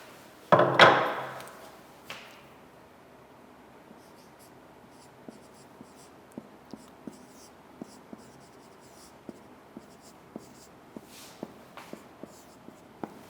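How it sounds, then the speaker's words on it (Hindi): Writing on a board during a classroom lesson, a loud knock or thump near the start followed by a long series of faint, sparse tapping and scratching strokes at irregular intervals. "मैं आप बच्चों के लिए इधर लिख रहा हूँ"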